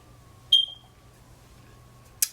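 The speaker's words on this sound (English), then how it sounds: "I'm sorry if you guys hear that beeping. That is the fire alarm" A fire alarm gives a single short high-pitched chirp once, clear against quiet room tone, followed later by a brief unrelated click.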